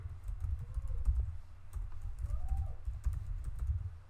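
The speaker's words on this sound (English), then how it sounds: "type the command pip install speech recognition" Someone types a command at a computer terminal keyboard, producing quick, soft key clicks in an uneven rhythm over a low background hum.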